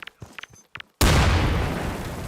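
A grenade thrown by a Combine droid explodes in a video game, a loud, sudden blast that follows a second of faint, scattered sounds and decays into a long rumbling tail.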